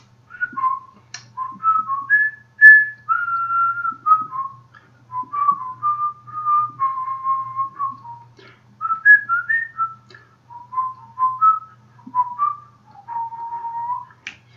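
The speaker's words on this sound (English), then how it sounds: "So I went along with him whistling." A person whistles a clear, melodic tune alone, with steady phrases rising and falling in pitch and brief pauses between them.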